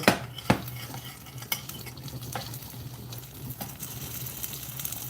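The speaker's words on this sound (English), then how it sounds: "show you what a sear means. See that nice little bit of a browning going on?" Meatballs, no longer frozen, searing and browning in a pan, with a steady low sizzle under occasional sharp scrapes and clinks of a utensil against the pan.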